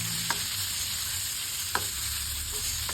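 Minced pork stir-fries in a hot pan with a steady, loud sizzle, a spatula scraping and tapping the pan now and then; no voices.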